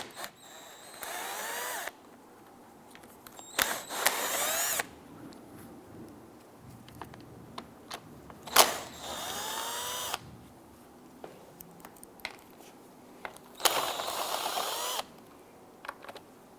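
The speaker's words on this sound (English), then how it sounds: "Using an 8mm socket, loosen and remove these bolts." Power tool with an 8mm socket spinning out bolts on a 2011-2019 Ford Explorer A-pillar windshield molding, several short whirring bursts separated by quiet pauses and small clicks.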